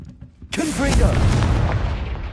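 Confringo fire-blast spell cast in Hogwarts Legacy, a deep booming burst that kicks in abruptly and rumbles on loudly with crackling debris, mixed with game effects and a brief voice before it.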